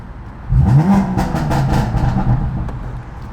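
A 700 hp BMW F80 M3 running on E85 with a loud exhaust revs up sharply, then holds a deep, rumbling, steady growl, close and loud.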